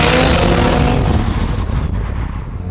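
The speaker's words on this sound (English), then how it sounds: "This is my 1975 Mazda RX-3." A 1975 Mazda RX-3 engine roars loudly and steadily up close, with a strong low rumble that eases off slightly toward the end; no talking.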